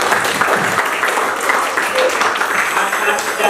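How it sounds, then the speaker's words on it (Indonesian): A classroom group applauds the third student group, with steady, moderately loud clapping running the whole time and voices mixed in. "Aplaus untuk kelompok 3"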